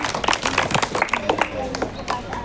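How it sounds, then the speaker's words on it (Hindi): An audience at a Children's Day 2024 celebration claps for a young performer: a ragged run of nearby handclaps, busiest in the first half, mixed with people talking. "भाई ताली बजाओ जोरदार जन्नत के लिए"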